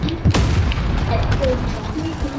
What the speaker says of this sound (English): RPG kaboom.